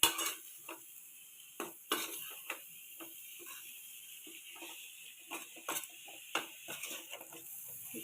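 Chicken thoran stirred and mixed in a pan, with a spoon clinking and scraping against the metal in quick irregular bursts, close and fairly quiet over a faint background hiss.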